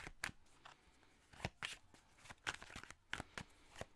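A deck of cards is shuffled and cut for a tarot-style guidance reading: a close series of crisp riffles and soft snaps arriving in uneven bursts, with no talking.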